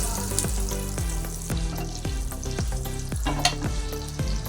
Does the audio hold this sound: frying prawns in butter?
yes